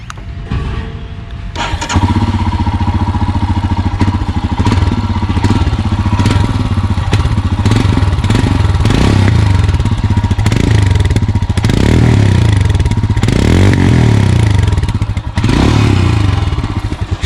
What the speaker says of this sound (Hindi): let me just start the motorcycle for you